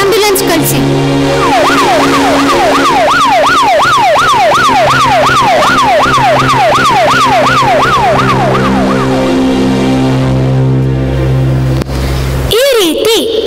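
Wailing ambulance siren from a staged emergency scene in a drama performance, rising and falling in rapid repeated sweeps for several seconds, loud and near over a steady background of voices and crowd noise.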